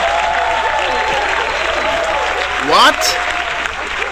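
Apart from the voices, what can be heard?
audience applauding and cheering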